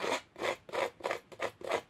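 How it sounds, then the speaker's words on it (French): Scissors snip and scrape along the edges of paper for scrapbook card-making, a quiet, close series of about six rhythmic rasping cuts in quick succession with no talking. "Ici, on va venir prendre les ciseaux pour leur tranche."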